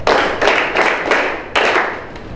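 A group of school band students, flutes and clarinets, clap a rhythm together in a rehearsal room. The claps come as sharp, loud, slightly ragged group hits spaced unevenly across a couple of seconds, with no voices.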